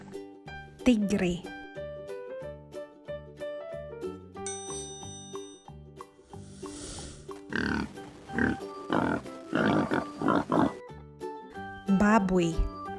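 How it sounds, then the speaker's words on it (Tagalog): A cartoonish pig oinks and grunts in several short bursts over a bouncy children's tune with chiming bells. "Baboy."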